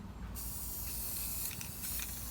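A can of Rust-Oleum exterior spray paint hisses in a sustained, close burst while painting a van, with a couple of brief flutters in the stream, no talking.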